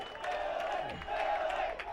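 Crowd cheering and clapping at the 2009 PSP Phoenix Open pro paintball finals between the Los Angeles Ironmen and Philly Americans, a steady roar of many voices, distant-sounding, with faint whoops throughout.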